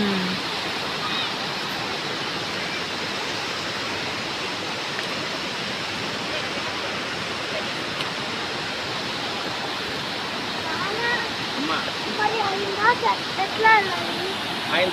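Geelong waterfall near Melbourne, a constant broad roar of falling water that stays even throughout, with people chatting faintly over it near the end.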